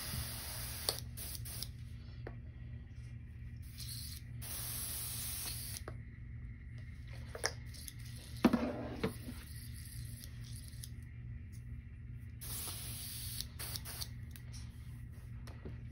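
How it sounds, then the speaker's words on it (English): Airbrush being cleaned out while painting a custom swimbait, short bursts of faint hissing spray separated by quiet gaps, with a few small clicks and taps in between. "clean this out of my airbrush"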